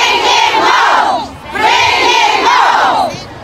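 A large political rally crowd shouts back in unison, two long loud bursts of massed voices with a brief dip between them, close and overwhelming.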